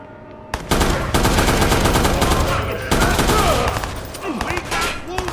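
Sustained bursts of automatic gunfire in the Watch Dogs video game, dense and loud for several seconds, with voices shouting over the shooting.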